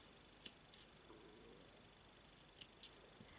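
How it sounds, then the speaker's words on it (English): Scissors snipping thread while making a handmade bracelet, two pairs of quick, crisp clicks with short gaps between them in a quiet room. "I will take the scissors and cut"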